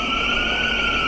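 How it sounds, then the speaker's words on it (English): Police siren sounding at a street protest in Wellington, a loud, steady piercing tone held without pause against a rumbling background. "Here comes that siren again."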